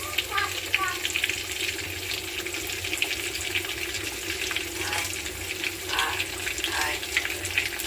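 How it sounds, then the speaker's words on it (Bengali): Boal fish frying in hot oil in a home kitchen, giving a steady broadband sizzle and crackle that stays loud and even throughout, with a few brief bubbling bursts near the end. "তো মাছটা দিয়ে দিচ্ছি, মাছ ভাজা হইতেছে"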